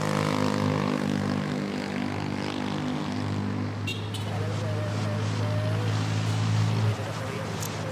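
Airliner landing at Manila Airport, a continuous roaring engine drone with steady tonal hum, close and loud, thinning slightly near the end, with faint background voices.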